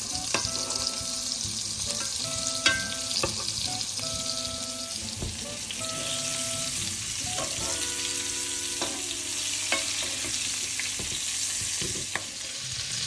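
Swedish meatballs of beef sizzle and crackle steadily in hot fat in a pan, with clinks of a utensil basting and stirring throughout, close and fairly loud, no talk.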